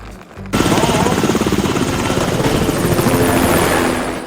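A cartoon helicopter sound effect starts abruptly and holds a loud, rapid rotor chop that stays steady before easing off at the end, close and alone.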